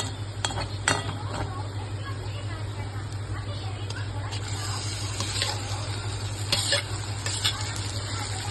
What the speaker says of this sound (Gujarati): ટમેટા નાખીને બરાબર હલાવી લેવાના